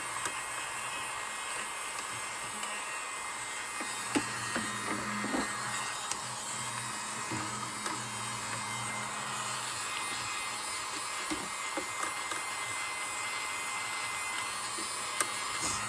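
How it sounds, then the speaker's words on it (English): A small vacuum cleaner tidying a sewing machine runs steadily the whole time with a constant, whirring drone and a few faint knocks and clicks along the way. "And then I'll use my little vacuum"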